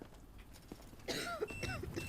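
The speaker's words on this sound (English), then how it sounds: "why are you coughing like that?" A few soft, raspy coughs from a woman in the video game Quarantine Zone, close and fairly quiet, over faint background noise.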